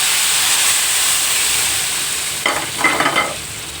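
Hot tempering (talimpu) poured into a pot of Andhra-style horse gram sambar, a steady steamy hiss and sizzle that rises into a few crackling bursts near the end, with no voices.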